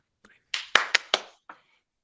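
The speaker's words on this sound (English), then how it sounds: "a round of applause for yourself for the great effort on the first day" Online training participants giving a brief round of applause, a few sharp separate claps spaced irregularly over about a second, close and dry, with a faint voice at the start.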